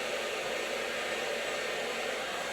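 Continuous steady roar of a hair dryer aimed at long hair during a blow-dry, close and even with no voices.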